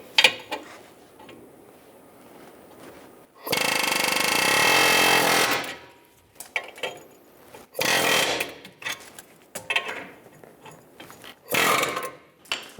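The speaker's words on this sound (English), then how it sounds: "Using a needle bit, we're going to push these rivets out through the bottom." A needle bit driving ball joint rivets out of a 2008-2017 Buick Enclave suspension, with loud rattling pneumatic hammering in several separate bursts between quieter pauses.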